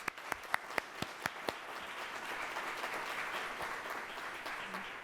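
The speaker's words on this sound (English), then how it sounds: "Let's give them a round of applause." Audience applause for a panel of Ohio politicians at a forum, opening with a few distinct sharp claps that swell into soft, steady, fairly distant clapping.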